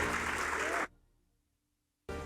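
Dense audience applause at a 2023 hall of fame induction ceremony rings out strongly for almost a second, stops abruptly into near silence, then bursts back in at full strength.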